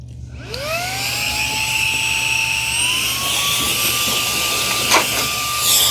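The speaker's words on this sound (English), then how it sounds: "now I convert it to a blower" Fanttik cordless car vacuum converted to blower mode, its motor whining up from silence to a high, steady, loud whir that holds throughout with a brief clatter near the end.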